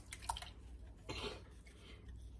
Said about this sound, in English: I'm going to add the EKUEGBEEMIN, the soaked EKUEGBEEMIN, to my hot water.